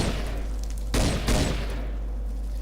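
Two quick bursts of rifle fire from a low-recoil sniper rifle in the Minecraft SDK's mod 1.7.3, each a short crackling volley over a steady low hum.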